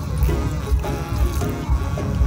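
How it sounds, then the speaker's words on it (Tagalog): Water pours steadily into a plastic bottle, a continuous close-up trickle and splash with a fairly even level throughout, no voices. "Dumiretso agad yung tubig sa ilalim."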